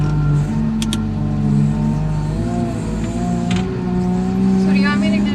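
A front loader's engine drones low and steady, swelling slightly as it is given gas, with a pair of brief clanks early on and a person speaking over the rumble.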